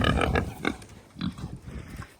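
Pigs of a strikingly colourful breed grunt in a short burst of several low, rough snorts close by, with no talk over them.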